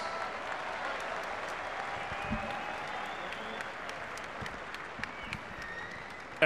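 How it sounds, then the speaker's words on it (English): Steady applause and crowd noise fill an arena in Diriyah, Saudi Arabia, after a heavyweight boxing bout between Dillian Whyte and Mariusz Wach, a dense even wash of clapping with a few louder sharp claps. "let's get a nice round of applause out here, please, for both of these fighters"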